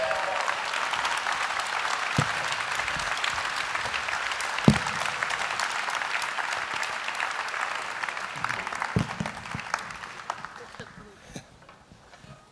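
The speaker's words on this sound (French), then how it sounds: "on peut se lever pour eux, on peut les applaudir" A church congregation rises and applauds, dense steady clapping with a few louder thumps and shuffles, tapering off toward the end as the noise thins out.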